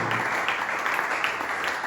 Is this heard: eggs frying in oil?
no